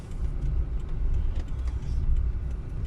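A car drives along a street in the Polish seaside town of Ustka, its steady low engine and road rumble continuing close and even throughout with no talk.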